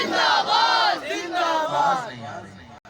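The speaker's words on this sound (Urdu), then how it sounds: "آپ نے یہ نعرہ لگانا ہے، اس نعرے کی آواز امریکہ، یورپ، فرانس، ہندوستان تک جانی چاہیے" A large crowd at a religious gathering roars a takbir slogan in unison, loud, close and sustained, with chanted swells that rise and fall over a few seconds before cutting out.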